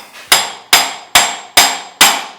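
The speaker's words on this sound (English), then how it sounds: "Amazing what a little tap of a hammer will do." Five sharp, loud hammer blows strike a puller on a Yamaha YXZ1000R crankshaft at an even, steady pace, each one ringing metallically before it fades, with no talking.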